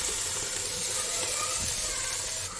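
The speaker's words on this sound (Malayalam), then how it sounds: "നമ്മുടെ സവാള ഒരു സൈഡിലോട്ട് മാറ്റി വെച്ച ശേഷം തക്കാളി ഇട്ട് കൊടുക്കുക." Tomatoes drop into a pan of hot oil with onions pushed to one side while cooking chicken perattu, setting off a loud, steady sizzle and hiss that fills the whole moment.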